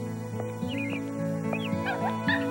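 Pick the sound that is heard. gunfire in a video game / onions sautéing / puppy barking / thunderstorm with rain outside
puppy barking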